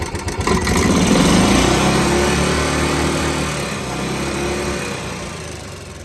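A Club Car gas golf cart engine starts and runs, a close, loud buzzing drone that settles into a steady idle with slight surges.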